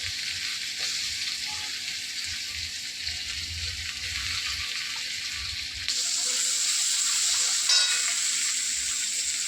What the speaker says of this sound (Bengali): এবার নুন হলুদ দিয়ে একটু ভাজা ভাজা করে ঢাকা দিয়ে দেবো।